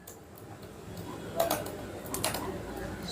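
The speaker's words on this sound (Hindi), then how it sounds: "आपको यहाँ पर टाइप करना है" Quick bursts of keystrokes on a computer keyboard while entering data into an Excel spreadsheet, close and crisp, with a couple of louder clusters of taps over a quiet room background.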